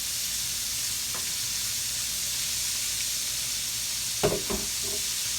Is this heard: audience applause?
no